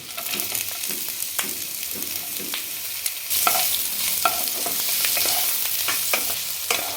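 Garlic pieces and chopped onions fry in a pan with a steady close sizzle, punctuated by repeated utensil clicks and scrapes as they are stirred, growing brighter and louder midway; no talking.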